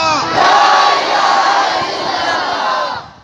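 A rally crowd roars slogans back in unison, a loud, sustained mass of many voices chanting together close by, swelling and holding for a few seconds before dropping off at the end.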